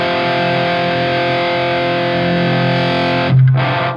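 A heavily distorted electric guitar sustains a thick, buzzing chord through a Soldano Super Lead Overdrive pedal into an amplifier's power amp return, then is briefly choked off before ringing again.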